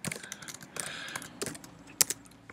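Computer keyboard typing code for a LÖVE (Love2D) game tutorial, a quick irregular run of close clicking keystrokes with a few sharper, louder key hits near the end and no talking.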